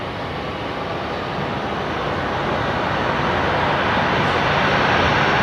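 Jetstar jet airliner on its takeoff roll at Brisbane Airport at night, a broad, steady engine roar that swells gradually louder over several seconds and continues without a break, with no talk.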